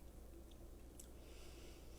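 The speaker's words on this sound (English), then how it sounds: "Hold please while I chew." Quiet, close chewing of a butter cookie dessert bar with cream cheese, soft moist mouth sounds with a few faint crunchy clicks, no talking.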